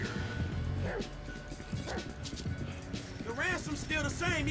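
Chop the dog in GTA V gives a few sharp barks over game sounds, with someone talking nearby in the middle and end.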